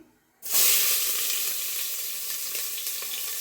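Onions dropped into hot oil for a chicken biryani, a sudden loud sizzle that bursts in after a moment of near silence and holds steady as a bright, close hiss.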